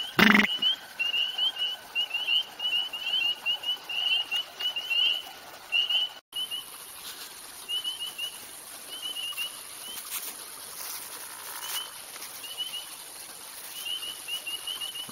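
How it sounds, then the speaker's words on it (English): Gray tree frogs give loud, vibrating trills in repeated bursts of a few seconds each, outdoors amid faint background noise, with a short knock at the start. "You may also hear gray tree frogs, which are little small tree frogs, like the peeper, but they're gray, and they have a really loud vibration sound"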